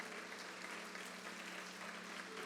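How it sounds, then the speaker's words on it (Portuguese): Church congregation at a Sunday evening worship celebration clapping in praise, a soft, continuous wash of many hands heard from a distance, with a steady low hum underneath. "Você pode aplaudir o Senhor? Por favor, faça com alegria."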